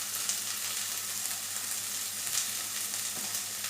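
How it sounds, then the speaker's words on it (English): Tomatoes cooking in a hot pan give a continuous, even sizzle that stays close and steady throughout with no breaks or voices. "And now allow tomatoes to cook."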